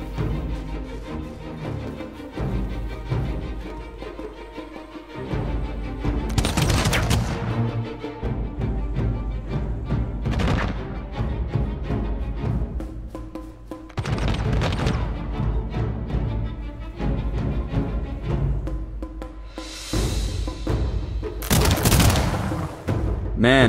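Gunfire in the strategy video game Humankind: repeated volleys and bursts of shots with booming impacts that swell and fade over a steady battle background, loud and close throughout.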